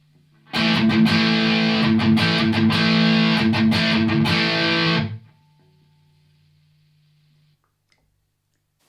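Electric guitar through a Boss DS-1 Distortion pedal, a burst of gritty strummed chords played loud and close for several seconds, then stopped, with a faint amp hum lingering before silence.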